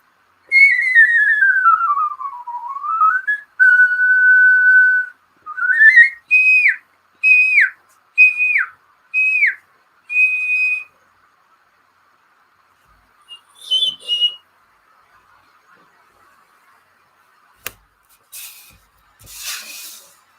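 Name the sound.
homemade whistle being blown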